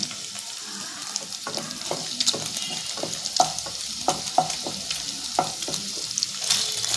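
Green chilies sizzle in hot oil with paneer in a home kitchen, a steady crackling fry broken by frequent clicks and scrapes of stirring, close and without talk.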